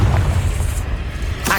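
A Confringo fire-blast spell cast in Hogwarts Legacy: a loud, booming explosive burst with a heavy low rumble that fills the moment and trails off, followed by a sharp second whoosh at the end.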